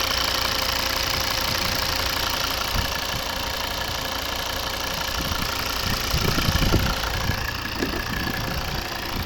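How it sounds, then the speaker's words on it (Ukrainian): The 2.0 D4 diesel engine of a 2011 Volvo V60 idles with a steady, close knocking clatter and a constant mechanical hum, loud and unbroken throughout. "Ось робота двигуна."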